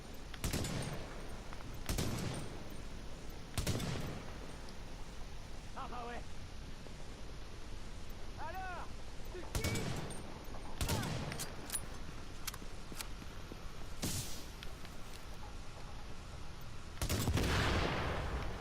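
Gunfire in the video game The Division, scattered sharp bursts of shots spaced across the stretch, with a brief voice and faint in-game sounds between them.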